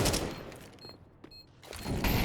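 XM shotgun blasts in a Counter-Strike match on Nuke, a loud burst at the start, a quieter gap with faint clicks, then another heavy burst of shots near the end.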